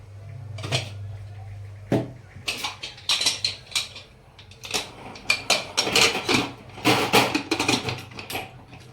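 A series of metallic clanks and clicks as a pressure cooker lid is handled and shut, sharp irregular knocks close by with no talking.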